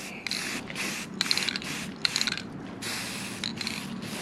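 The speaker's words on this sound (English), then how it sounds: "We're just trying to black out our grill real quick. So we'll go light coat on this one" Matte black all-in-one paint and primer sprayed from an aerosol can onto a car grill in a series of short hissing bursts, with brief gaps between them, close and fairly loud.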